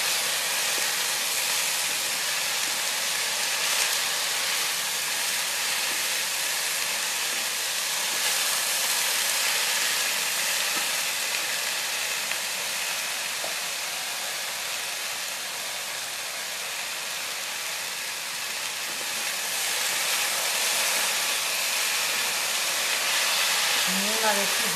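Potatoes frying in a pan with salt and turmeric make a continuous, even sizzle and hiss that holds steady for the whole stretch, dipping slightly in the middle before rising again.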